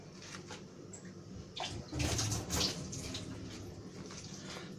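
Water pours into flour and splashes in a short burst, louder in the middle, with softer trickling before and after; no one speaks.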